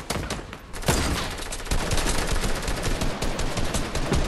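Gunfire in Fortnite is a dense, near rattle of rapid shots layered into a continuous barrage, with one sharper burst standing out early.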